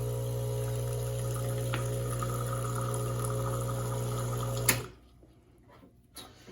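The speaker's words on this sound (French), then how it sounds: "Ce qu'on peut faire, c'est venir ouvrir la valve et partir l'eau chaude pour faire baisser la température de notre thermobloc." Hot water running from the valve of an Ascaso Steel Uno PID espresso machine to cool its thermoblock, a steady humming pump with hissing flow that cuts off abruptly near the end, leaving a quiet room and a small click.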